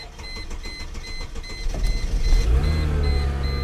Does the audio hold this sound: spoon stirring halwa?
no